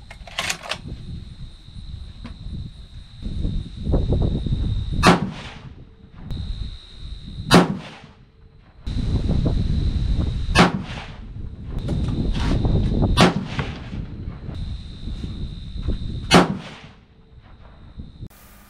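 Five sharp, loud rifle shots from a .300 PRC loaded with Retumbo powder and Hornady A-Tip bullets, fired at uneven intervals over a steady outdoor rumble, each crack followed by a short fading echo.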